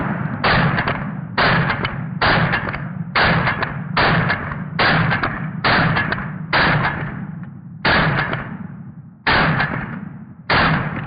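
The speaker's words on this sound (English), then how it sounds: "So I'm going to shoot some more, maybe get some slow-mo in here" A Genesis Arms GEN-12 shotgun firing about eleven loud, booming shots at a steady pace, each with a short ringing decay, over low outdoor background noise.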